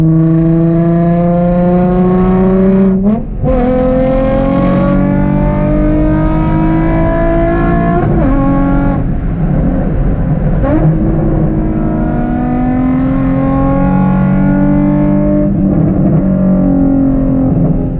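A car engine revs hard on a race track and climbs through the gears, pitch rising and dropping with each shift, loud and close, with no talking.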